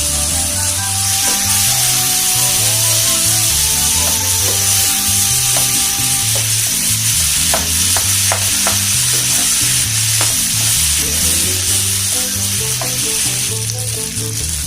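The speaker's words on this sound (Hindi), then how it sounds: "मुश्किल से 2 से 3 मिनट में अच्छे से आलू फ्राई हो जाएंगे। इसको अच्छे से फ्राई होने तक हम चलाते रहेंगे।" Potatoes for a dosa filling fry in a pan and are stirred, giving a continuous loud sizzle with occasional scraping taps beneath a tonal layer; no one speaks.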